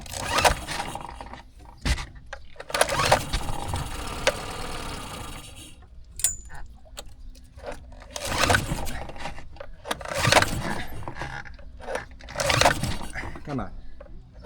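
A Tohatsu 9.8 outboard motor on a Cape Dory 28 sailboat, stalling after carb draining, cranks and fires in short bursts, catching and running roughly for a moment before dying, with someone talking between attempts.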